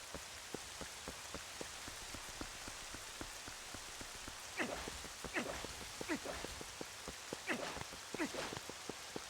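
Rain falling in The Legend of Zelda: Twilight Princess HD, a steady dense patter with clusters of sharper drops and splashes that rise in the second half, with no talk over it.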